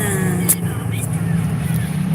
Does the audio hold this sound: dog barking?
no